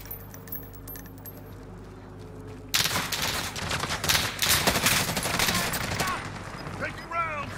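Gunfire in Call of Duty Warzone on Rebirth Island, a trio match: a quiet stretch, then a sudden dense burst of rapid automatic shots with clattering cases, loud and close, lasting several seconds.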